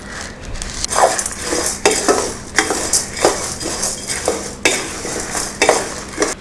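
Curry leaves and chana dal dry roasting in a pan over low heat, stirred in quick, rhythmic scraping strokes of a spoon against the metal, close and fairly loud.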